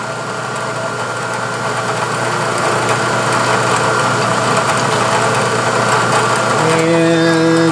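A milling machine runs loudly and continuously nearby as its table is driven back to zero, a steady mechanical drone with a rising whine of gear tones toward the end.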